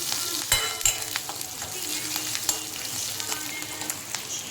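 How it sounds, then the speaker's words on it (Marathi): Green chillies sauté in hot ghee for a fasting-style potato bhaji, giving a steady close sizzle broken by a few sharp clicks and scrapes of stirring, with no talking. "काही मिरची एकंदरसाठी मिरची अशी तुपातच परतून घ्यायची आपल्याला"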